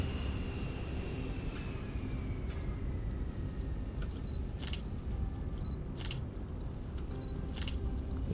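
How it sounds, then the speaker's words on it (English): A fixed-wing airplane flies a go-around instead of landing, its steady engine roar continuous and fairly distant, with a faint descending whine and a few brief clicks over it. "Is he doing a go around? He is not landing."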